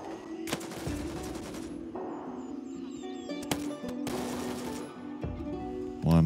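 Several bursts of automatic rifle fire in the video game Gray Zone Warfare, loud and sharp with short pauses between, along with single shots and faint game ambience.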